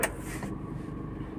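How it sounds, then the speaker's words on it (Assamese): Air conditioning runs inside the cabin of a 2012 Chevrolet Spark LS, a steady low whooshing hum that follows a brief click at the start. "AC ৰানিং হৈ আছে।"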